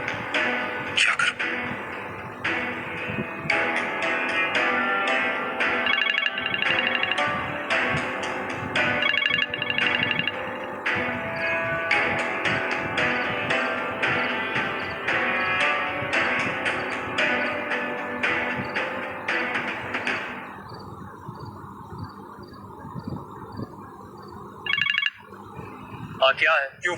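A telephone rings repeatedly with an electronic ringtone in a scene from an Urdu drama serial, the ring sounding steadily over background music for about twenty seconds before fading into quieter ambience.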